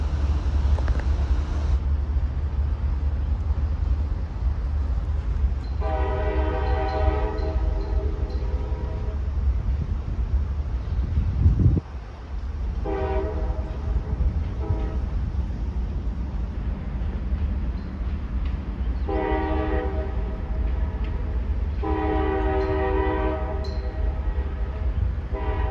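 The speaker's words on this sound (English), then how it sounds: "CSX 825, a GE ES44 ACH, sounded the horn for the many crossings along the way" A CSX GE ES44AH locomotive rolls past steadily, sounding its horn in repeated long blasts for crossings over a continuous low rumble of the train.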